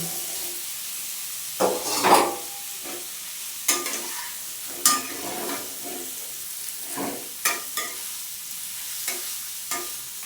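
Boiled potatoes going into fried spice paste in a pan, with faint sizzling and intermittent scraping stirs and clinks of a utensil against the pan, sparse and fairly quiet.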